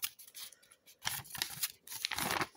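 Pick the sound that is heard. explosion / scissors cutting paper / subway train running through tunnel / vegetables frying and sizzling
scissors cutting paper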